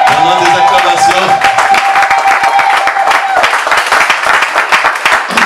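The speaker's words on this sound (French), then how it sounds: "Pendant des acclamations" A church congregation at a pastor's campaign gathering in Liège claps and cheers together, fast, loud, close applause running throughout with a sustained tone early on and scattered shouts within the noise.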